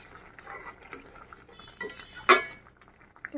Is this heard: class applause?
no